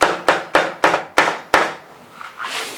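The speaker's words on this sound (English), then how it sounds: "I'm just going to tidy up these edges just to take those rolled bits off" Six sharp, evenly spaced hammer taps ring out close by as a copper hammer tidies the rolled edges of a steel-clad bee hive lid made from recycled timber, followed by softer rubbing sounds.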